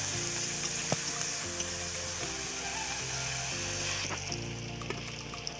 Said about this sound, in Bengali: এটা পেঁয়াজটাকে ভাজা ভাজা করবো এবারে।